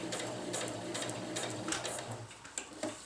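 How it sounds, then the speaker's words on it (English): A sewing machine stitches a winter tarp in quick rattling bursts with brief pauses between runs, close and fairly quiet. "Now I'm going to sew up, so I'll be coming back to this mark."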